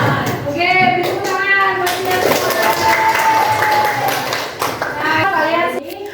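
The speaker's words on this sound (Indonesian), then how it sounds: "Oke, beri tepuk tangan buat kita semua." Schoolchildren in an Indonesian classroom clap together during an ice-breaking cheer, a steady close burst of hand claps with children's voices and chatter running over it throughout.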